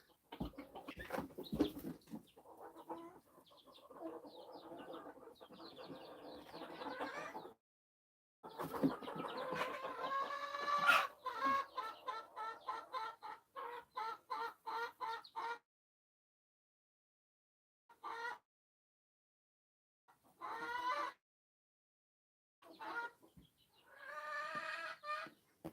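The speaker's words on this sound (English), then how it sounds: "Get out, chickens. Not in the house." Chickens cluck and squawk in and around a house in irregular bursts with brief silences between, close and fairly loud, with a voice briefly heard among them.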